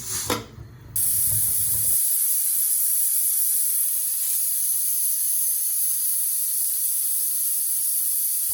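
Steam rushing from a pressure cooker cooking Naidu-style mutton curry, a loud steady hiss that starts after a brief clatter and holds unbroken for about seven seconds, with no talking.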